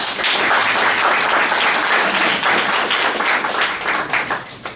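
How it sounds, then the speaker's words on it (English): Dense, sustained applause from a panel audience for a speaker named Richard, loud and even throughout, tapering slightly near the end. "Everyone, round of applause for Richard."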